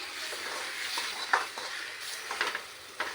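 Wet stirring of dal water into a wok over a soft sizzle, with a spatula scraping and clinking against the pan in irregular strokes.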